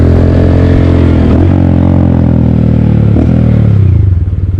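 A Honda Grom motorcycle revs hard in first gear while held in a wheelie, its loud engine note rising and falling in steady pitch sweeps, then dropping off near the end.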